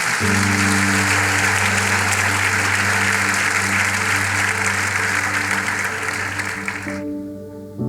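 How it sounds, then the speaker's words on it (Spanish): Congregation applause at a Spanish-language church service, a loud sustained wash of many hands clapping with a steady musical tone underneath, ending abruptly near the close. "Dale un aplauso fuerte al Señor, una ofrenda de palmas"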